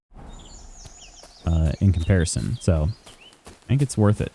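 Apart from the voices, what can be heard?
birds chirping in the video game Kingdom Come: Deliverance II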